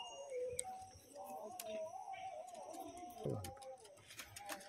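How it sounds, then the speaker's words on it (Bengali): A pair of pigeons coos softly and repeatedly close by, low throaty calls rising and falling while someone talks over them. "দেখুন পায়রা জোড়াটা, এদিক ওদিক মাদিকে তারা করছে।"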